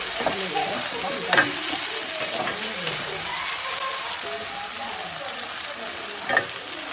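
Onion fries in oil for avalakki, giving a steady, close sizzle with occasional stirring clinks and a faint voice in the background.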